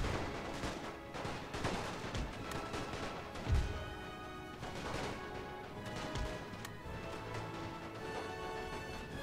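Rifle volleys and artillery fire on a World War I battlefield in the strategy game The Great War, a steady crackle of scattered distant shots with occasional heavier booming impacts, loud and continuous.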